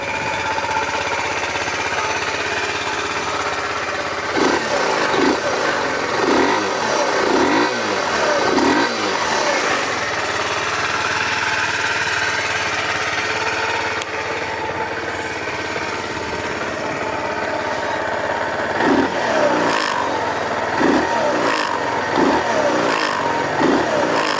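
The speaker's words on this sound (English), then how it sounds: "you just hit the button and crank it up. It starts right up with that fuel injection." A 2017 Kawasaki Z125 Pro with fuel injection runs close by, a steady buzzing engine note with bursts of throttle blips and revving at the start and again near the end.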